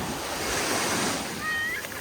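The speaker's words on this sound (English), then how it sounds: "Seems as though the waves are picking up quite a lot of the sand from the seabed." Sea waves break and wash onto the sand of Boracay beach in the Philippines, a steady close surf roar with light wind noise across the microphone.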